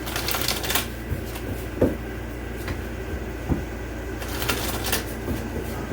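Tarot cards are shuffled with a few rapid riffling bursts and scattered soft clicks over a low, steady background hum.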